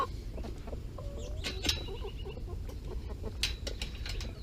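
Hens in a backyard flock cluck softly and intermittently over a steady low rumble, with a few brief sharper calls standing out.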